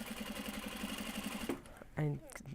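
A sewing machine stitches a drawstring box bag seam with a fast, steady mechanical whirr and regular pulse for about a second and a half. It then stops, and a short voice follows.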